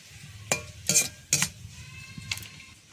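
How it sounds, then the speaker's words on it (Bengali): Batches of peanut bhujia frying in hot oil, giving a soft steady sizzle broken by a few sharp clatters of a slotted spoon or utensil against the pan; no voices. "ভুজিয়াগুলো কিন্তু আমার লাল লাল করে ভাজা হয়ে গেছে"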